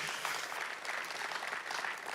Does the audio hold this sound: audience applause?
yes